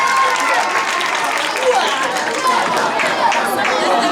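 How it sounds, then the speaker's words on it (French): Audience applause at a school ceremony at Complexe Scolaire la Semence de Sénevé, with steady, dense clapping and crowd chatter that fill the whole stretch at an even, loud level. "Applaudissez pour notre Moranga, s'il vous plaît."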